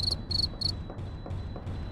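Grasshopper chirping in a video game: three sharp, high buzzing chirps in quick succession, then softer repeated pulses over a low steady background hum.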